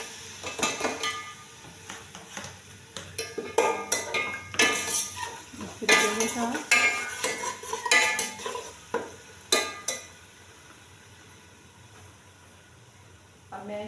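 Garlic ginger paste and tomatoes fry in a pan for a mixed vegetable dish, with close, busy spoon scraping and clatter over a soft sizzle, and someone speaking briefly.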